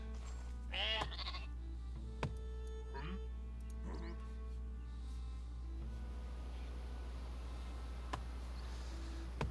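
Sheep bleating in the strategy video game Northgard, several wavering bleats in the first few seconds over a low, steady background rumble, fairly quiet overall.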